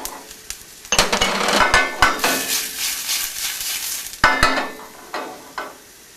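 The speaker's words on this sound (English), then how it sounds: "And now we're going to saute." Diced white onion and green onions sautéing in oil and butter over high heat for an egg frittata, with a steady sizzle under repeated sharp clinks and scrapes of a utensil stirring against the pan.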